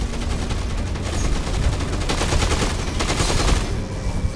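Steady, dense gunfire from the Dead Rising 2 video game, a continuous barrage of rapid shots running the whole time at a fairly loud, even level, with no talking over it.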